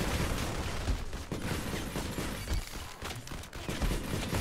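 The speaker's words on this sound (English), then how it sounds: "Ugh, screw these turrets," Dense bursts of automatic gunfire from turrets in the mobile shooter Modern Combat 5, loud and continuous rattling with overlapping shots and no speech.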